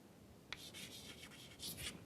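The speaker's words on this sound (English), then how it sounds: "So let me write it here." Chalk or marker scratching across a board during a lecture on regular expressions, a short burst of close, quiet strokes in quick succession after a brief pause, with no voice.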